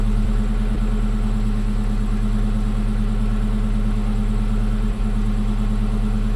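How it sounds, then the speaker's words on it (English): A 1965 Chevrolet El Camino engine runs steadily at a loud, close idle, with a constant low rumble throughout and no voices. "Well, it's running really good."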